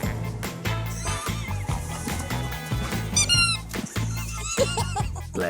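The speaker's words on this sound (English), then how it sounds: "his favourite toy is a squeaky ball" A golden retriever's squeaky toy ball gives repeated sharp squeaks in quick bursts, loud and near, over busy background sound.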